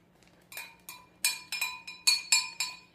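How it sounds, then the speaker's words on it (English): Pesto sauce and diced tomatoes being stirred together, a spoon clinking against the dish in about eight light, evenly spaced taps, close and fairly quiet. "Then you just stir your pesto sauce and diced tomatoes together."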